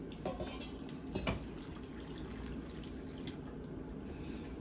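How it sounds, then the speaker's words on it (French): Water poured into a pot of fish while preparing pepper soup, a steady soft splashing stream close by with a couple of brief louder splashes, no talk. "I put little water now in the fish"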